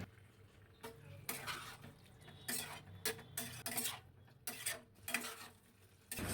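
Ash gourd curry is stirred in a pan with a spoon, making repeated scraping and clanking strokes in short bursts, close and fairly clear, with a little sizzle between them.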